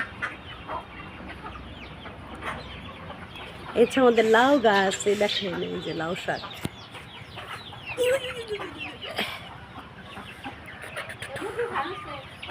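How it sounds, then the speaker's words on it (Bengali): Village farm chickens cluck and squawk around a small backyard coop, with a burst of loud calls midway and scattered quieter clucks later, while a person talks over them throughout. "ওই হচ্ছে আমাদের মুরগির ঘর। দেখেন কতগুলা সুন্দর সুন্দর মুরগি।"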